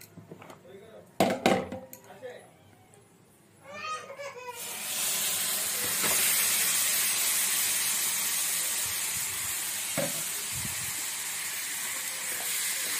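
Marinated tikka frying in a kadai on an induction cooker on low flame. A steady loud hiss and sizzle starts partway through and carries on, with a few clinks of utensils and brief talk before it.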